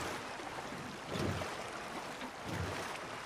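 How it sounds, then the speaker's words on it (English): Rowing a boat across water in the Red Dead Redemption 2 video game: rhythmic oar splashes and strokes recur about every second and a half over a steady wash of water, with no speech. "Arthur's got some rowing arms on him when he needs them"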